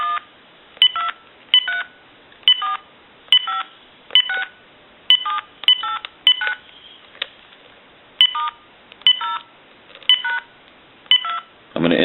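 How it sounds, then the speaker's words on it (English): Uniden EXS9966 two-line cordless telephone dialing, a series of short DTMF keypad tones in quick clusters with brief gaps, clear and close with no talking. "I'm going to go ahead and do some dialing."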